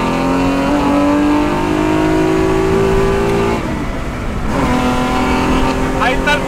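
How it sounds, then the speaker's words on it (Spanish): A 600 HP Mirage V6 turbo engine in a Lancer EVO 4 conversion revs loudly and steadily, with rising engine tones and a brief dip midway, while people talk over it. "¡Ahí está el motor!"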